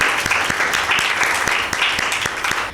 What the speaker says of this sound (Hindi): शनाया के लिए ज़ोरदार ताली।